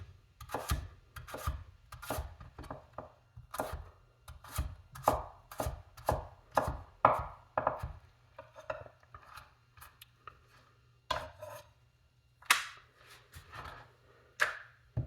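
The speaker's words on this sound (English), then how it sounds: "whether or not the knife cracks the carrot when you go like this" A heavy 352-gram vintage chef knife chops through a carrot on a board in a series of crisp, close strokes that come in quick bursts with short pauses, with no speech.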